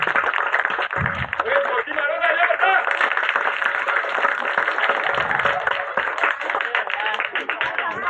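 Applause greets a prize winner at a Ganpati celebration, a steady crowd clapping throughout, mixed with a loudspeaker announcer talking over it and a lively hum of voices.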